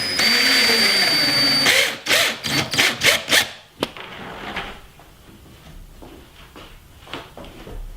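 A power tool fastens a piano hinge joining two ping pong table tops: a steady whine first, then a series of short loud bursts, followed by quieter clicks and handling sounds.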